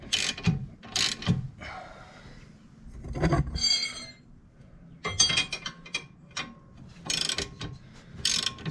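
A ratchet wrench working loose tight suspension nuts and bolts during a teardown of struts and rear arms: close, irregular bursts of sharp clicking ratchet strokes separated by short pauses.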